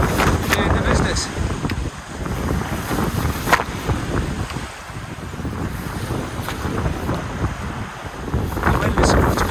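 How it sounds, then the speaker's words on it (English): Wind blows across a sailboat at sea in a breeze of about 10 to 12 knots, a continuous loud rushing buffet with microphone wind noise and wash of water, while people talk faintly underneath. "The wind is supposed to go around more to the stern later as the day progresses."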